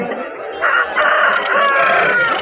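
A fighting rooster at a Vijayawada poultry market crows in one long drawn-out call, close and clear, with faint background noise around it.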